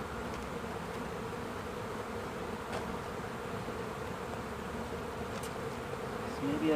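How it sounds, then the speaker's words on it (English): Honeybees buzz steadily around a Layens hive as a second colony is added, a continuous close drone with no talk. "So yeah, let's close all these bees on there."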